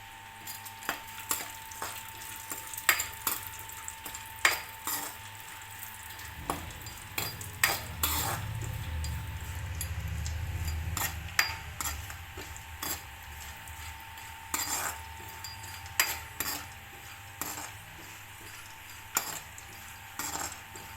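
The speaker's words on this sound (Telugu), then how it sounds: "నెయ్యిలో బాగా ఇవి కలర్ వచ్చే వరకు వేయించుకోవాలి" Cashews, almonds and dried dates fry in ghee in a pan, a steady soft sizzle broken by frequent clinks and scrapes of a spoon stirring against the metal, close and continuous with no talking.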